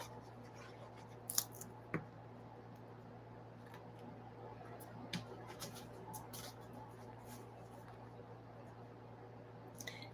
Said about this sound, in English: I've got my scissors here, so I think I'm just going to cut this off right here just a tad.